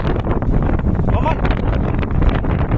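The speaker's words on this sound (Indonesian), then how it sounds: "Kita sementara memantau angin puting beliung. Lokasinya di depan pantai lagi" Strong wind at a beach as a waterspout forms offshore, a heavy continuous roar battering the microphone while people talk over it.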